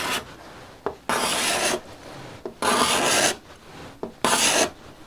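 A steel card scraper is pulled across a wooden workpiece in a workshop, lifting shavings. Three close, loud rasping strokes, each lasting under a second, are separated by short pauses.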